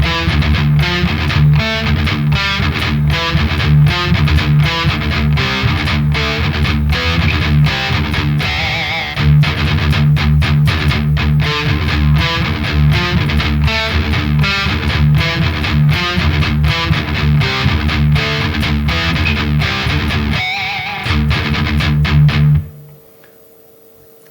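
Heavily distorted electric guitar plays a slow, chugging death metal riff, loud and sustained with dense palm-muted low notes, a brief break near the end before cutting off.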